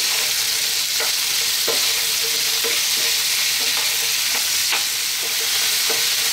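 Garlic ginger paste fries and is stirred in a pan for a potato cabbage curry, a steady close sizzle running throughout with recurring scraping strokes of the spoon against the pan about every second.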